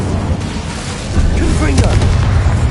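A Confringo blast in Hogwarts Legacy lands as a deep boom with a low rumbling burst, set in a dense, noisy combat mix of game effects and voiced sounds.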